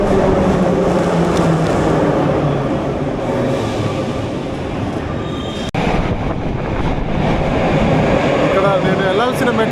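A Moscow metro train at Kashirskaya station rumbles loudly and continuously, with a brief clank midway and faint wheel squeals toward the end.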